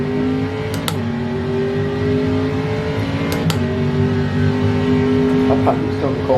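A Metalmoro P1 race car engine in Automobilista 2 drones at high revs with a steady harmonic whine, briefly broken by sharp gear-shift cracks, while people talk over it.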